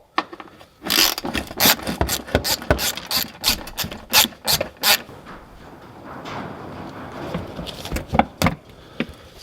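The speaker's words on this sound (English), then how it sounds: "these are 10mm bolts on there. So righty-tighty, lefty-loosey. Just take these off." A ratchet works loose 10mm bolts on the inner liner of a Lexus ES 350, giving bursts of rapid close clicking in several runs, with a quieter stretch of handling noise between them.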